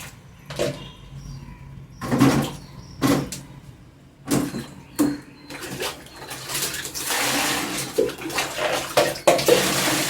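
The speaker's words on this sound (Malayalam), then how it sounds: "ഇത് കഴുകാനായിട്ട് വെള്ളത്തിൽ ഇട്ട് വെക്കട്ടെ കേട്ടോ നല്ല അഴുക്കുണ്ട്" Dirty taro roots being washed in water, with a series of close, intermittent splashes and sloshes that grow busier toward the end, and no clear speech.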